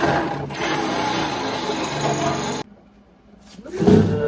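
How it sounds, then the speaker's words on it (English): A loud, continuous grinding whir of a drill boring a bolt hole in a 1935 Ford rat rod camper truck, stopping abruptly, then a brief rattle and thud after a short silence. "I just got enough room maybe to get the hole drilled."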